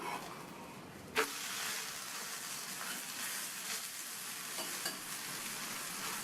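Instant wheat dosa cooking in oil on a pan, giving a constant close frying hiss and sizzle throughout, with one brief knock near the start and no voices.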